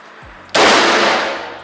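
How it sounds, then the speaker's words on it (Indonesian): A single air gun shot firing a slug pellet, a sharp, loud crack with a short decaying tail after a faint click. "Ini 3 kali tembakan tidak ada yang masuk nih pakai slug."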